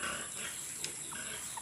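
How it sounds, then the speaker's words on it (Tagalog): Backyard pigs and piglets give faint, scattered grunts under a steady hiss of outdoor background noise, with no clear loud call standing out. "yung mga alaga naming baboy,"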